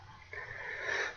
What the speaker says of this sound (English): I clear my throat and everything so much